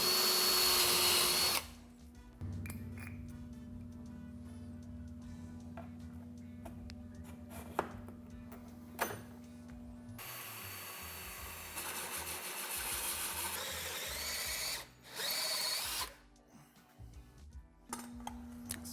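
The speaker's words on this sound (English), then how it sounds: "I'm going to drill a 3/16 hole here so I can run a bit through for centering that" A power drill bores a 3/16 hole for a home car-charging setup. It gives a loud high whine that runs in a few long bursts with pauses between, and small clicks and handling knocks fall in the quiet gaps.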